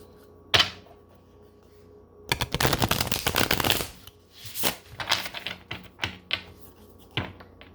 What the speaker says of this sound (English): I'm going to shuffle 3 more times in front of you.